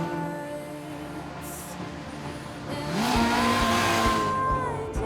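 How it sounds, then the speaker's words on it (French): A tiny 1050 cc Autobianchi Abarth in a classic car rally tour drives past, its small engine buzzing steadily and then swelling louder and higher as it accelerates close by. "une Auto Bianchi Abarth, la plus petite voiture du Tour Auto de par sa cylindrée et sa taille"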